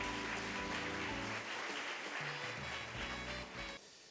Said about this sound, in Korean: 환영의 박수로 맞아주시기 바랍니다